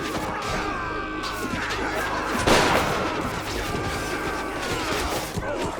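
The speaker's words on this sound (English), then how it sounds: "Just shoot them, they can't dodge the shooting." Gunfire and clashing chaos in the Warsword video game during a siege train battle, with scattered shots and impacts, a loud crash midway and a busy crowd-like din throughout.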